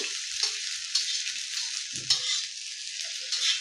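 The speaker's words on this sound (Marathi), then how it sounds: "आलं लसूणही आपल्याला कांद्यासोबत फ्राय करून घ्यायची" Ginger and garlic fry with onion in a pan for a prawn rassa, a steady bright sizzle running throughout with soft stirring scrapes and small clinks, close and alone with no talking.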